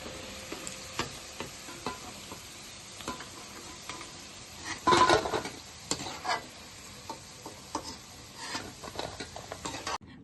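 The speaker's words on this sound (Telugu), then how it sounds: "చికెన్ ముక్కలు విడివిడిగా రావాలి చికెన్ అయితే ఇలాగ వేసుకోవాలి" Chicken pieces for dragon chicken frying in oil, heard as a soft continuous sizzle with light clicks and one louder burst midway, close and fairly quiet.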